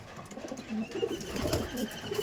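Aggressive male racing pigeon in a loft, cooing in a series of soft, low, throaty coos heard close and fairly faint against quiet background noise.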